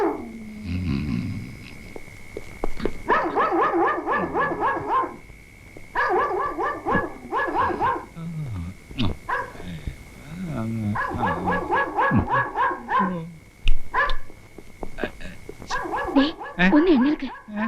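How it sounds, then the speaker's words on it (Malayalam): A dog barks insistently at night near a rented house, in repeated bursts of sharp, close barks separated by short pauses, with a few yelping, whimpering notes between them. "പട്ടി വല്ലാതെ കുരയ്ക്കുന്നു"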